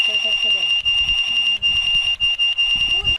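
Vanuatu's national emergency alert tone: a steady, piercing high-pitched alarm holding continuously for a few seconds while people talk over it.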